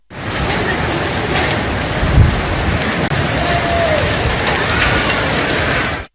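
Heavy rain pours steadily in Islamabad during a storm with strong gusting winds, a dense, loud wash of sound lasting throughout with no voices.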